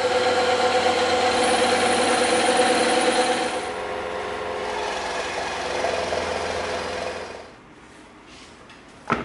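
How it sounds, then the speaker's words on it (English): A bandsaw cutting EVA foam for a bison axe prop: a loud, steady motor hum with a buzzing blade tone, slightly shifting as the foam is fed, then winding down near the end. "We're going to cut this out on the bandsaw."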